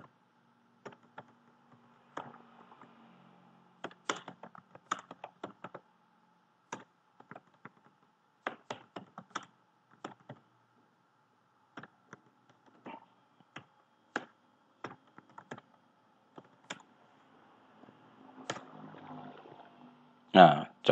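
Scattered keystrokes on a computer keyboard tap out irregularly, in short bursts and single clicks, faint and close in an otherwise quiet room, with a quick louder flurry at the very end.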